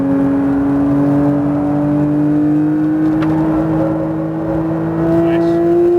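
A Porsche 992 GT3 on track at Speed Vegas, its engine holding a loud, steady high-pitched wail that climbs gradually, with a brief dip near the end and a voice talking faintly under the noise.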